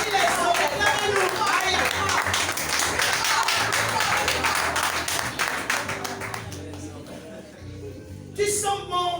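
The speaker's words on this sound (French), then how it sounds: "Les hommes, acclamez-nous." Men in a church congregation cheer and clap, a dense burst of applause and shouting that fades after several seconds, then a short renewed outburst near the end, with voices mixed in.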